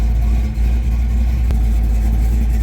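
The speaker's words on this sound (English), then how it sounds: "I got the car running" A car engine idling steadily on its first test drive after four years off the road, a loud, constant low rumble with one brief click midway.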